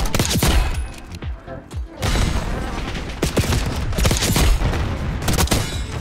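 Dense sniper gunfire and explosions in the Black Ops 6 video game, with loud repeated shots and booms over about six seconds, a short lull near the second mark, then heavy continuous firing.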